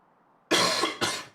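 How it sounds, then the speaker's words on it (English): A person gives two sharp, close coughs in quick succession after a moment of near silence. "Man, that cough is annoying."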